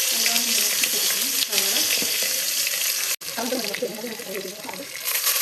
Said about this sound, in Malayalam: ഗ്രാമ്പു, ഏലക്ക, പട്ടയുടെ ഇല വെച്ചിട്ട് നമുക്ക് നല്ല സവാള നല്ലോണം നോക്കിപ്പിടിക്കണം